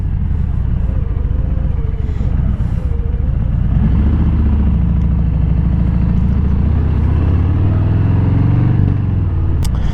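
A 2022 Harley-Davidson Fat Bob with Vance and Hines exhaust rumbles close by, a deep throbbing engine note that swells as it revs, with faint talk at moments.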